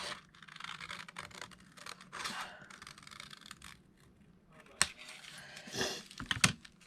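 Scissors snip through a paper Christmas gift tag in a crafting session, giving soft, close scraping cuts with a few sharper snips near the end, no talking.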